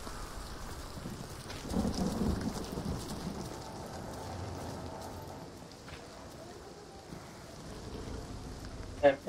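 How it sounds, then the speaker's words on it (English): Heavy rain falls in a video game, a continuous hiss with rumbling surges like distant thunder, and a sharp thump near the end. "And super heavy rain."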